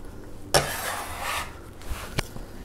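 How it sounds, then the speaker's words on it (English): Chopped onions tipped into a bowl with a soft clattering rustle, one sharper knock at the start and a light tap near the end, close and quiet. "Onions are going into the bowl."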